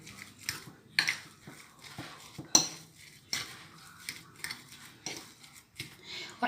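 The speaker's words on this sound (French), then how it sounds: "On remue." A mashed potato mixture seasoned with pepper and salt for hachis parmentier is stirred in a pot, producing irregular close scrapes, knocks and metallic clinks of the utensil against the pot.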